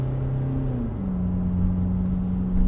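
A Kia Tasman ute engine held at full throttle, climbing a hill while towing, a steady close droning note that shifts pitch once and slowly builds, with no talk over it.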